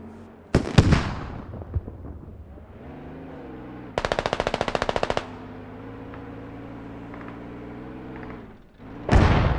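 Artillery explosions in the military shooter game Squad: two heavy booming blasts, near the start and at the end, with a sharp rapid burst of automatic gunfire in between over steady ambient rumble.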